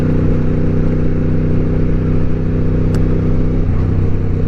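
A motorcycle cruising along a country road, its engine droning steadily and loudly close up with constant wind rush, no pauses or shifts beyond a slight change in tone near the end.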